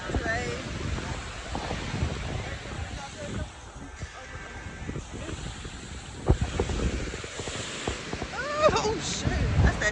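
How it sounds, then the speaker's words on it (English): Wind buffets the microphone over a steady wash of ocean surf at a beach, loud and continuous, while people talk throughout. "We made it to the beach."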